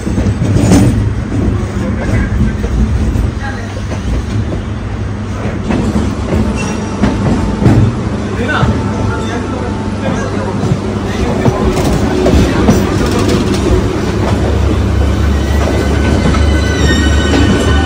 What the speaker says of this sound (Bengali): 6:23-এ আমাদের ট্রেন ছাড়লো হাওড়া স্টেশন থেকে